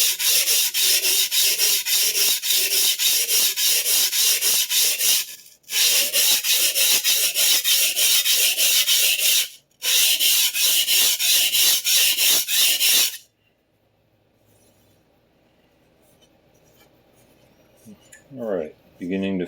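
A vintage Clyde Cutlery chef knife blade is rubbed against a sharpening stone in long, steady rasping strokes, close and loud, broken by two short pauses before stopping; soft handling noises and faint clicks follow in the quiet end.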